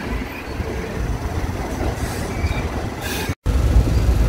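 The Saraighat Express, a long-distance superfast train nearing Guwahati, rumbles loudly with steady wheel noise and faint squeals, broken by a brief drop-out.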